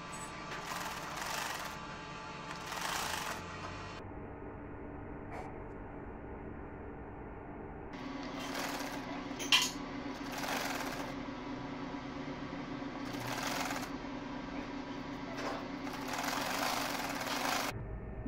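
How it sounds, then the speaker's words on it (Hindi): Sewing machine stitching a summer baby shirt, running in several steady bursts with brief pauses between them, close and fairly loud with a constant motor hum underneath. "यहाँ से सिलाई लगाना स्टार्ट करेंगे।"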